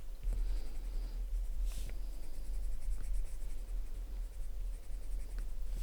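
Oil-based Polychromos coloured pencil scratching steadily across smooth paper while drawing blond hair, a close, continuous dry scraping with faint rhythmic strokes and no talking.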